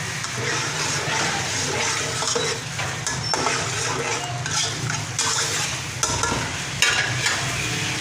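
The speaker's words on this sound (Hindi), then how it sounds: "अब इसको हम चला लेंगे थोड़ा सा" Oil or ghee is stirred in a pan for Punjabi-style jaggery rice (gur wale chawal): continuous close scraping and stirring over a low frying sizzle, with occasional metallic knocks against the pan.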